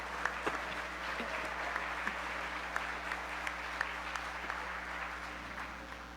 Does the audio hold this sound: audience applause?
yes